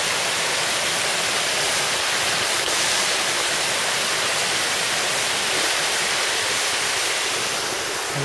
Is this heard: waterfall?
yes